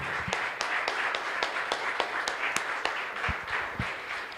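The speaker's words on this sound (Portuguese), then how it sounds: "Palmas para Jesus!" A church congregation applauds during a Portuguese-language worship service, a steady bed of clapping with sharper individual claps standing out irregularly, moderately loud and continuous.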